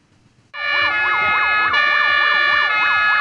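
A volunteer fire engine's siren sounds at a frozen lakeside during an ice-rescue drill, starting abruptly after quiet and wailing loud and close in a fast, repeating up-down sweep.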